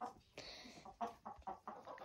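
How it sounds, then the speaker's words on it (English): Chickens cluck inside a chicken coop in a series of short, close calls that come in an uneven rhythm, with a longer squawk near the start. "It's all the chickens here. The chicken coop."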